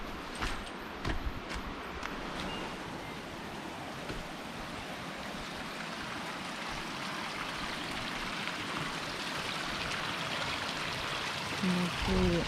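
River water flowing steadily at a solo campsite during a bath in the river, a broad continuous rushing wash, close by, with a few faint clicks and knocks early on.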